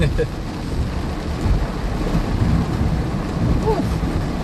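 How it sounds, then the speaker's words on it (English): Low rumbling thunder from a nearby cloud-to-ground lightning strike during a severe storm with flooding in southern Iowa, rolling steadily through the whole stretch over wind buffeting and rain. "There's some rumble right there"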